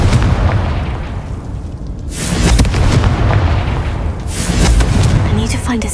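Loud Confringo spell blasts in the Hogwarts Legacy video game, two heavy booming explosions with rumbling tails over continuous in-game combat noise.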